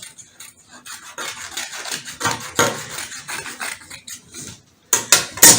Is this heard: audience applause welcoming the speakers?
no